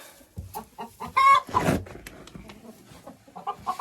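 Chickens in an unheated henhouse give short, close clucks in a rhythmic series, with a louder burst of squawking in the middle before the quieter clucking resumes.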